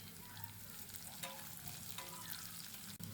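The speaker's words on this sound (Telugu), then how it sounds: "చిటికెడు సాల్ట్ వేసి ఉల్లిపాయ ముక్కలను బాగా ఫ్రై చేయాలి" Onion slices frying in hot oil with chopped green chillies and curry leaves for a chicken kurma, a soft, steady sizzle running throughout with faint stirring and a small clack near the end.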